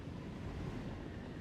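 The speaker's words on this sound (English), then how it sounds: "slicing through the ocean's clamor and the sounds of the machinery." Ocean surf and ship machinery aboard a cruise ship in the game Morimens, a dense, steady low roar of waves and rumble, quiet and unbroken throughout.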